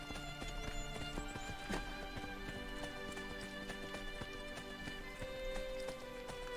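Horse hooves clip-clop steadily in Assassin's Creed Brotherhood, a continuous galloping rhythm set within dense game music and ambient layers at a moderate, even level.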